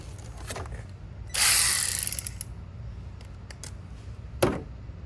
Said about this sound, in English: are you turning a wrench?